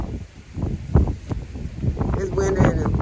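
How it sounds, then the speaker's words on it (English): Gusty wind buffets the microphone in a garden in low rumbling bursts, with rustling through the blowing air; no clear speech. "It's windy and the wind is blowing."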